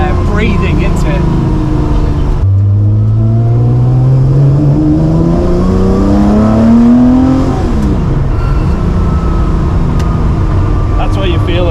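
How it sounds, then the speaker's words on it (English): A Porsche 911 IROC engine revs hard and rises in pitch with a lumpy cammy note and a whining gearbox whistle, loud and close, then drops back to idle. "You can hear the camminess of the car."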